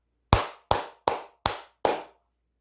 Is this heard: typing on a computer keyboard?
no